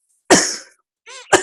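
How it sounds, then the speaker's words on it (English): Two sharp coughs from one person, close and loud, separated by a brief voiced breath or stifled sound, each ending quickly into silence. "holding back coughs is really hard"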